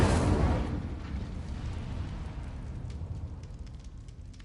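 A burst of Incendio fire spell flame in Hogwarts Legacy erupts loudly at the start, then fades into a low rumbling crackle that trails off over several seconds.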